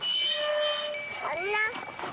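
Domestic cat on a goat and poultry farm in Namibia meowing, a drawn-out tonal cry followed by a shorter rising meow, close and clear over quiet background.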